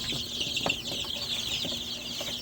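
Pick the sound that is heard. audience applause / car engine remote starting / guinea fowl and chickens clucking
guinea fowl and chickens clucking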